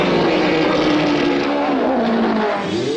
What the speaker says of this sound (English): coherent speech was impossible over engine noise